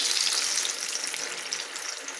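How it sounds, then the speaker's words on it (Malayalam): Chicken cutlets fry in moderately hot oil, giving a dense, continuous crackling sizzle that stays loud and close from start to finish, with no talking. "നമുക്കിനി കട്ട്ലേറ്റ് ഓരോന്നിട്ട് നമുക്ക് വറുത്ത് കോരിയെടുക്കാം"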